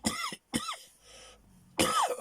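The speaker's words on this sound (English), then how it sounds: "Coughing fits at times." Three harsh coughs, close and loud, the first two quick together, then a short pause with a faint breath before a final rasping cough.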